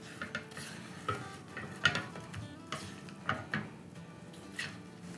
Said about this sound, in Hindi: अब हम इसको हल्का फुल्का सा हिला देंगे।